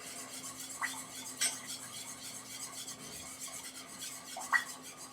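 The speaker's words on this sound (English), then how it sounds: "And then I'm going to stir it up." Marinade ingredients for orange glaze beef being stirred in a bowl, soft rubbing and scraping with a few light utensil clinks against the side, quiet and close, no voices.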